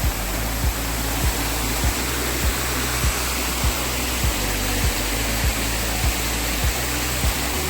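Anara waterfall in Kerala sends water rushing over rocks in a steady, loud, broadband roar with no break, while faint low thumps recur about twice a second beneath the wash.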